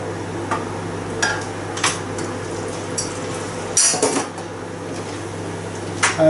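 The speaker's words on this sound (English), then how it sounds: "Let's give this a stir." Spoon or utensil stirring pepper steak in a frying pan, with scattered clinks and scrapes against the metal over a steady low background hum, a few sharper knocks near the end.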